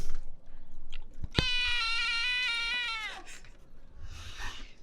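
A cat gives one long, loud, harmonic meow inside a car on a road trip, rising sharply and holding for nearly two seconds before trailing off, with steady engine and road hum underneath.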